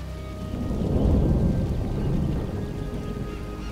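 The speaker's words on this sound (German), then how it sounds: "werden sie auf offener See von einem plötzlichen, heftigen Sturm überrascht" A storm at sea in Warcraft 3 Reforged: a heavy, continuous roar of rain and wind swells with a deep rolling thunder rumble, loud and enveloping throughout.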